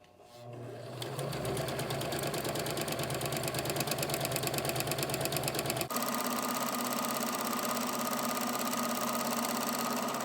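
A Kenmore 385 series sewing machine runs a decorative stitch, a fast, steady mechanical whir and clatter that starts up after a brief pause and then shifts pitch partway through, close and continuous, with no voices.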